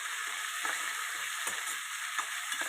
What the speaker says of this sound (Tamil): இப்போ தக்காளி வெங்காயம் கருவேப்பிலை பச்சை மிளகாய் சேர்த்து இது மாதிரி நல்லா மிக்ஸ் பண்ணி விட்டுடுங்க நல்லா வதக்கணும்